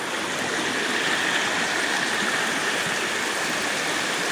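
A clear, cold rural stream flows steadily, a constant close rushing wash of water with no breaks and no voices.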